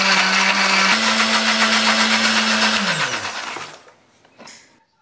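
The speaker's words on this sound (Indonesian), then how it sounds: "Tambahkan sedikit air supaya lebih gampang untuk menghaluskannya." A blender grinds garlic, shallots, candlenut and turmeric with a little water into spice paste, running loud and steady with a shifting motor whine, then winding down and stopping near the end.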